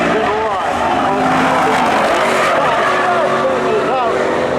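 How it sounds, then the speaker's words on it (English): Mercedes and Camaro drag racing side by side into the first turn at a Memorial Day spectator drag event, engines roaring loud and steady with rising, shifting revs, under an announcer's continuous commentary. "Evan Kennedy in the Mercedes. John Fielding in the Camaro as they drag race down into turn number 1."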